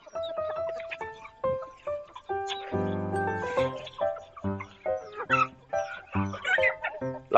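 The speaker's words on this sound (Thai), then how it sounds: "เอาครับเดี๋ยวให้ไก่ไข่ก่อนนะครับ" Laying hens cluck and squawk close by on a Thai chicken-keeping setup, a run of busy, uneven calls overlapping one another, some sharp and rising, with a low background murmur.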